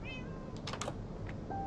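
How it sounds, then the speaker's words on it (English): A pet cat meows in the Minecraft video game, a short high-pitched call over a steady low background hum. "He's my pet cat."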